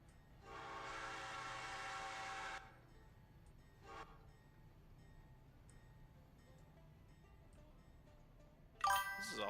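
A diesel locomotive in the video game Railroader sounds a long, loud horn blast for about two seconds, then a short toot, then a low engine rumble, ending with a sharp metallic burst.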